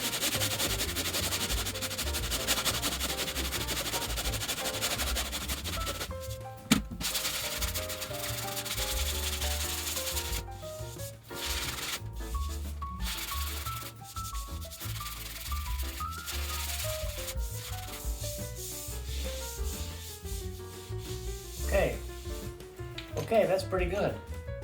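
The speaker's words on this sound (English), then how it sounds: "All dry. Let's do some sanding." Sanding a dried drywall compound patch on a small-hole wall repair, a steady, close abrasive rubbing that runs throughout in continuous strokes with brief pauses.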